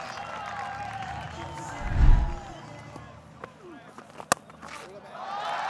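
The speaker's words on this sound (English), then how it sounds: "It's been a while since the crowd had a boundary to cheer for." Cricket stadium crowd at a Pakistan vs Sri Lanka match cheering a Babar Azam boundary, a broad roar swelling and then settling, heard under a commentator's steady talk with one dull thump near the middle.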